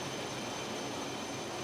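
The four diesel engines of a large Mediterranean ferry, 64,000 horsepower combined, roar in the engine room as a dense, loud, unbroken broadband drone with no talk.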